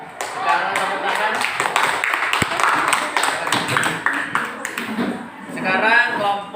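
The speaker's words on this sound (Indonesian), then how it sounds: "Sekarang tepuk tangan." A classroom group claps after a group presentation, with close, uneven individual claps and voices talking and calling out through the clapping.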